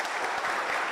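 Conference audience applauding at a youth employment event, a dense, steady wash of clapping from a crowd that holds evenly through the short moment.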